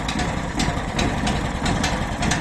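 Petrol engine of a MAST Gartentechnik GS1500 garden shredder starting up, chugging in a steady, rhythmic throb close by.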